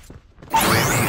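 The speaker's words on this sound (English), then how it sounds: "Throwing smoke grenade." A smoke grenade thrown in a shooter video game releases a sudden loud hiss that starts after a brief quiet moment and keeps going as a dense, steady rush of gas.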